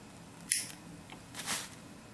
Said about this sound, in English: we can just cut this extra thread off